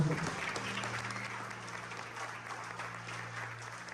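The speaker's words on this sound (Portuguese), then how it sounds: "Acho que a gente pode dar uma salva de palmas para Jesus, né?" A congregation clapping for Jesus at a New Year's Eve service, a soft, moderately distant wash of many hands that fades slightly as it goes, with a faint sustained tone underneath and no clear talk.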